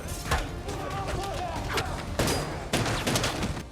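Rapid gunfire bursts from the John Wick: Chapter 4 film fight with pistols, sounding as loud repeated shots and impacts over dense action sound and music, with a voice talking over it.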